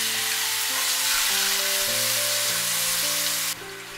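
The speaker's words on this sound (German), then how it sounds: "So lange braten, bis die Tomaten weich gekocht sind." Tomatoes fry in hot oil with spring onions and garlic in a pan for a Chinese tomato sauce, giving a loud, continuous close sizzle with steady musical tones underneath that cut off near the end.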